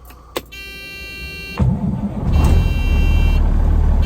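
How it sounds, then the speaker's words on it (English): An old cabover truck engine cranks and fires up on a cold morning: a click, a steady starter whine, then the diesel catches and settles into a loud, rough rumble, close by and with no talking. "Truck always starts so good in the cold."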